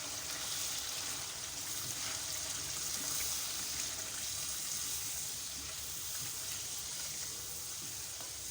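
Whisked yogurt goes into chicken Afghani karahi on full flame, giving a soft, steady sizzle and bubbling that stays faint and even throughout, with no voices.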